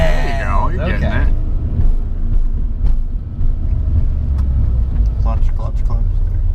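A Volkswagen Beetle with a manual gearbox creeps along slowly with a learner at the wheel, its engine a steady low rumble up close, while people talk inside the car.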